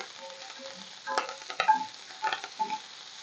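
Garlic sautés in a pan with a low, steady sizzle, joined by a few bursts of scraping as a spoon stirs it around, moderately close and with no talking.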